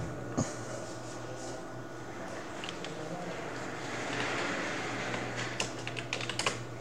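Typing on a computer keyboard while building a form in MS Word, soft steady key tapping over a constant hum, ending in a quick run of sharper clicks, close by.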